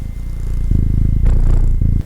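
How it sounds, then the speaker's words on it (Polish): A house cat purrs close by, loud and continuous, with a rough rhythmic rumble that swells and eases over about two seconds, heard alone. "Mój kot."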